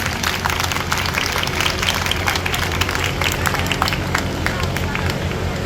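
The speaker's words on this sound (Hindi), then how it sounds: "तालियों की गड़गड़ाहट" Dense, loud applause from a crowd at a public gathering in Delhi, a steady roar of many hands clapping with babble and voices mixed in throughout.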